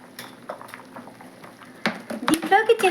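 Drumstick sambar bubbles in a pot at a steady boil, soft and close, followed by clinks of a ladle or lid and a louder burst of stirring toward the end.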